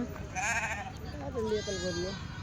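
A sheep bleats twice in wavering cries, close by, over a busy background murmur of voices at a weekly sheep and goat market in Galiveedu.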